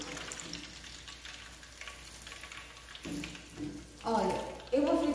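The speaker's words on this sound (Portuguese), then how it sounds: "Olha, eu vou fritar só esse" Chicken pieces frying in oil crackle softly and steadily in the background while a person talks over them near the end.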